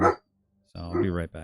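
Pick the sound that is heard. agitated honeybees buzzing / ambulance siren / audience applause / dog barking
dog barking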